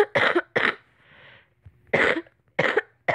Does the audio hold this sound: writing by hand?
no